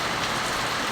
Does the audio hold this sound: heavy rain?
yes